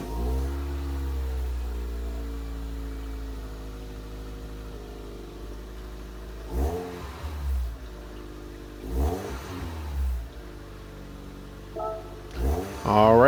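A 1997 Toyota MR2 GT-S in Gran Turismo 7 starts up and settles into a steady idle, then gives a series of short throttle blips that rise and fall, with a final rev near the end.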